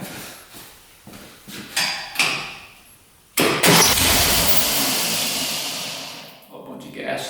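A 1967 Volkswagen dune buggy engine is started: a few cranking bursts give way to a loud catch that roars and then slowly dies down, with some clatter around it.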